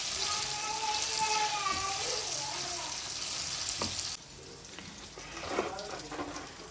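Green chillies and amla fry in a pan of oil for pickle, giving a loud, dense, continuous sizzle up close that drops somewhat in level partway through, with stirring scrapes and someone talking over it.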